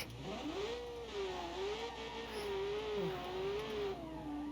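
A 1,000-plus horsepower V8 engine in the Automation car game revs with a steady, rising and dipping whine, sweeping pitch up and down through gear changes, fairly quiet and alone without talk.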